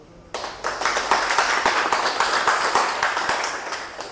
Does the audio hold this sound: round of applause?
yes